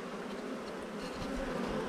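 Honey bees at a hive being fed syrup, a steady close buzzing drone that fills the whole stretch without any speech.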